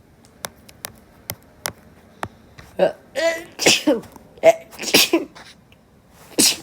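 A single sharp sneeze bursts out after several soft taps and clicks, followed by breathy voice sounds and another burst near the end.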